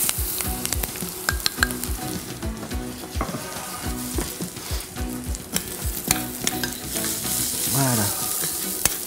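Rice poured into hot oil with shallots sizzles and crackles steadily while being stirred, with scraping strokes throughout and a brief word spoken near the start.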